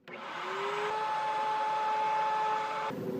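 A router cutting a 1/4 inch test groove along a scrap piece of wood makes a steady, loud whine that holds for nearly three seconds before the motor note drops away.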